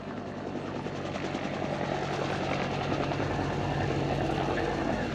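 A Westland Whirlwind helicopter with a Gnome engine mounted in its nose runs at an air day at Yeovilton, giving a steady, fairly loud whine and rotor chop with no break throughout.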